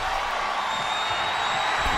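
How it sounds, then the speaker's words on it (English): A video-game wrestling crowd from WWE 2K22 roars in a dense, steady wash of arena noise, loud and continuous with no breaks for the whole stretch. "The sound of this crowd is deafening"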